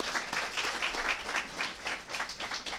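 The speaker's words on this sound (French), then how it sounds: "vous demander de vous acclamer très fort" An audience at a press conference applauds steadily, a soft and fairly distant patter of many hands that continues without a break.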